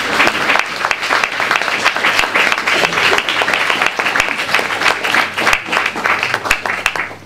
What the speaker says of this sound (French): mais vous pouvez applaudir déjà